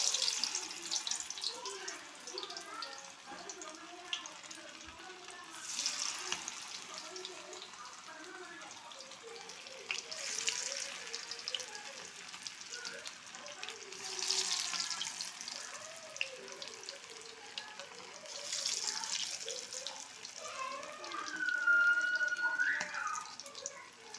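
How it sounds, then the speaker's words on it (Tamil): Marinated snakehead fish sizzles in hot oil in a pan, a continuous crackling hiss with periodic louder surges of spitting and bubbling that swell and fade over the frying. "இந்த இப்போ 10 நிமிஷம் ஊறின மீன் எடுத்து எண்ணெயில் போடுவோம்."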